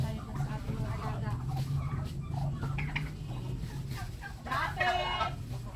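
Chickens cluck and chatter at feeding time on a farm where turkeys and ducklings are also kept, a busy, continuous flock sound close by, with a person calling to them over it.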